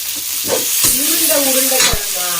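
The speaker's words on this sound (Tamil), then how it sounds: "இப்ப தக்காளி போட போறேன்" Tomatoes going into a pan of browned fried onions for an amma-style urundai kuzhambu, with a loud steady sizzle, stirring scrapes and a few sharp clatters of the spoon against the pan.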